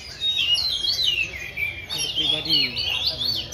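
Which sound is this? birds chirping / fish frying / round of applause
birds chirping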